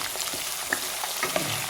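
Green chili, ginger and curry leaves fry in hot oil for pickle, with a steady close sizzle and a few small pops and stirring clicks.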